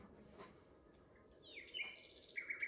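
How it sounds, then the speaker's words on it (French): Outdoors at a bamboo planting site, birds give a few bright, high chirps and short trilled calls, faint and somewhat distant against a quiet background, with no talking. "C'est quoi ces oiseaux de cons là?"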